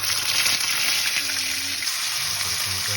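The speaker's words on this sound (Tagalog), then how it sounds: "Pirituin muna natin yung red bean." Red beans frying in a pan, a loud, dense, unbroken sizzle heard up close with a faint bubbling underneath, and no voice.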